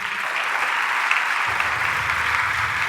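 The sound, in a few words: church congregation applauding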